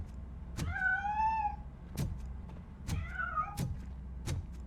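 A cat in RoboCop: Rogue City gives two drawn-out, rising meows, close and clear, among sharp clunks and knocks, with no speech.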